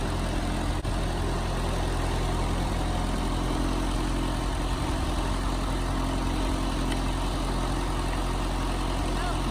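A Ford 8N tractor engine, cold-started after sitting two years, idles steadily with a low, constant rumble up close while people talk over it.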